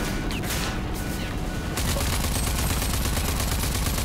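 Sustained automatic gunfire from the video game RAGE 2, a dense, loud barrage of rapid shots that runs unbroken for several seconds.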